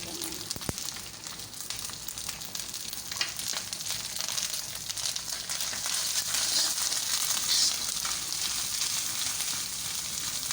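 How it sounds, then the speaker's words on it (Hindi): Spices sizzle and crackle steadily in hot oil in a pan, a loud continuous frying hiss that grows slightly stronger toward the end. "मसालों को हम जस्ट 15 सेकंड तक ही फ्राई करेंगे"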